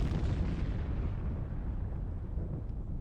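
A video game explosion in Chaser: a loud, dense rumbling blast that fills the clip and slowly fades, with no voices.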